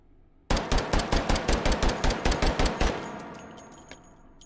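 About a dozen rapid, evenly spaced gunshots from a G41 pistol fitted with a muzzle brake in the H3VR video game, loud and sharp, followed by a fading ringing tail.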